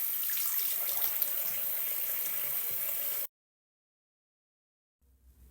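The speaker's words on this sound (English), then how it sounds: "I'm going to wash it off with warm water and pat it dry with my napkin." Warm water runs from a tap for about three seconds as a face mask is rinsed off, a steady close splashing hiss that cuts off abruptly, leaving silence before faint handling noise returns.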